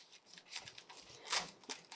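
A very sharp knife slicing the core off a cabbage, a few short crisp crunching cuts, close and fairly faint, with one louder snap of the blade through the stem.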